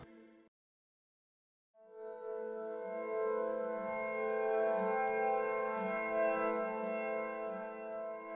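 After a brief silence, the Ethos atmosphere layer of Fracture Sounds' Trails solo string textures fades in as a soft, bell-like sustained tonal drone with steady harmonics, quiet and unaccompanied by speech.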